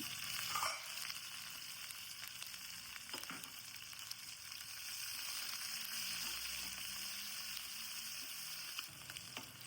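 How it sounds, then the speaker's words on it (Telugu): Onions and dried prawns frying in hot oil with mustard seeds, cumin and green chillies for a brinjal curry, a steady close hiss and sizzle with a few sharper crackles, continuous and alone without talk. "ఉల్లిగడ్డ రొయ్యలు కొంచెం ఫ్రై కావాలి"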